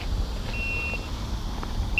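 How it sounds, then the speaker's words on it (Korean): A roast alarm beeps: a single thin, high electronic tone held about half a second, then a short repeat, faint over a quiet background hum. "로스트 알람이 울리네요."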